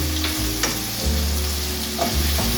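Ingredients sautéing in a non-stick pot before callaloo goes in, a loud steady sizzle with low rumbling scrapes of stirring recurring every second or so, close and unaccompanied by voices.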